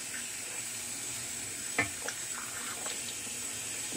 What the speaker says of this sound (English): Just rinsing out my brush.